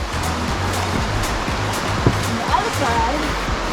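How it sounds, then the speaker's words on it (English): Creek water flowing alongside a hiking trail below cliff faces, a steady broadband rush and burble heard nearby under a man's brief speech. "it's peaceful here in the water flow alongside"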